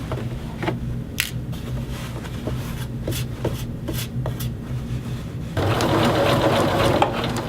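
A domestic sewing machine stitches a man's shirt sleeve at a 5/8 seam allowance, quiet rapid mechanical whirring with scattered clicks, then a louder denser run of stitching toward the end.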